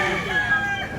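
A brief rooster crow rings out close by at a Cebu fowl market, a single sustained call over background murmur.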